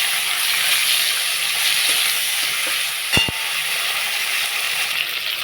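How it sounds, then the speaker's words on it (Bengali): Chopped tomato hits hot oil in a pan for a vegetarian ash gourd and lentil-dumpling dish, giving a steady close sizzle with a brief thump partway through and no talking. "এখন কুচিয়ে রাখা টমেটোটাও দিয়ে দেবো"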